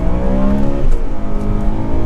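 A BMW M3's engine pulls under throttle with a steady, loud drone from inside the cabin, its pitch shifting partway through as it accelerates smoothly, with no talking.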